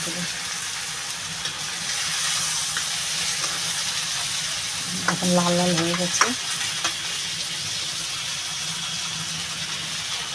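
Prawn heads fry in oil in a wok with a steady, bright sizzling hiss throughout, while a voice speaks briefly in the middle.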